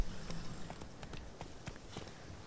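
Steady clip-clop of horse hooves in The Witcher 3 game, a rhythmic series of close, moderately loud hoofbeats against soft ambient background.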